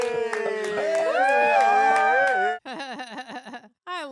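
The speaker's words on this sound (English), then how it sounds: "everyone cheering for him." Excited shrieks and cheering from a crowd, loud and continuous, followed by a few short bursts of voices.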